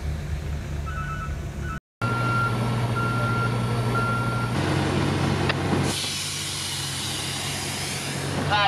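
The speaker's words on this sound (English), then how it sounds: "Cement truck number 3 just arrived." A cement truck arrives at a shotcrete job on an off-grid concrete dome home, its engine rumbling steadily while a high reversing alarm beeps in a regular rhythm, loud and near.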